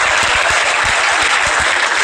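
Sustained, loud applause from a live comedy-show audience fills the stretch, a thick continuous roar of clapping hands with a few distinct claps popping out.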